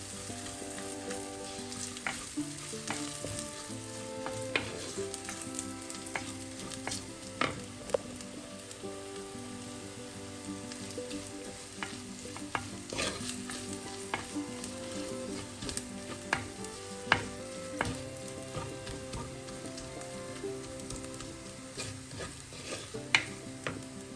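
Spices with a teaspoon of turmeric sautéing over a low flame for a Kerala-style red snapper chilli curry: a steady sizzle runs throughout, with repeated scraping stirs and small clinks close by, and no talk.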